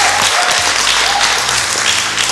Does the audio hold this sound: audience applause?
yes